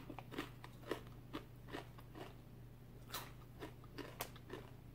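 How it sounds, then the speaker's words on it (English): Crisp, irregular crunches of Mackie's of Scotland sea salt potato chips being bitten and chewed close up, sharp bursts over a quiet steady hum. "Just listen to the crunch of this."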